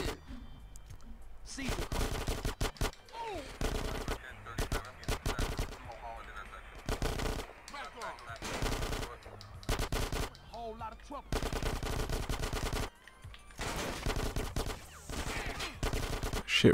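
Rapid automatic gunfire rattles through a street gunfight in GTA San Andreas. Dense bursts come in repeated waves with brief gaps between them, loud and close throughout.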